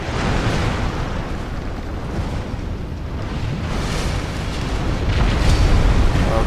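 A monster spitting fire in Dark Souls 2, heard as a dense, continuous roaring whoosh of flame that swells louder near the end, broad and rumbling with no talk over it.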